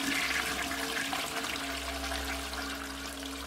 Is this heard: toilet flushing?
yes